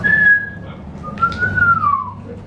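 A voice imitates a whistle with two sliding whistled tones, the first held and steady, the second rising then falling, clear and close in a quiet room.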